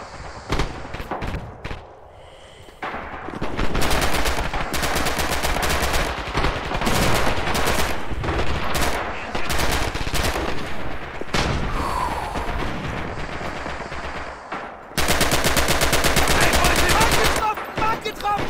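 Rapid machine gun fire in the video game Red Orchestra 2, loud sustained bursts after a short lull near the start, with a brief break before another intense burst toward the end.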